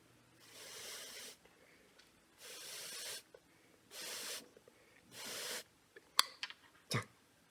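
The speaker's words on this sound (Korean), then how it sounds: "이런 식으로 라이터로 렌즈를 그 태워주시면 습기가 좀덜 찹니다" A turbo lighter flame is played over a freediving mask lens, giving four steady, roughly one-second jet hisses separated by pauses, followed by a few sharp clicks and a final short burst.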